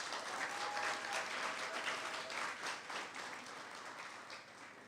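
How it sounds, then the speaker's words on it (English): A graduation crowd of around four hundred at Portmore Community College applauds its 2021 graduates, steady many-handed clapping at moderate distance that thins slightly toward the end, with a faint tone drifting underneath. "Clap Portmore Community College."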